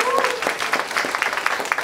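Concert audience at a live show claps steadily, a dense crackling wash filling the short stretch, with a voice rising over it briefly.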